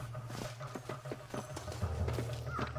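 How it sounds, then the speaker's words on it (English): Horse hooves clip-clop in a steady rhythm through Red Dead Redemption gameplay, the regular beats repeating close by over a low rumbling game backdrop. "we got a horse this time."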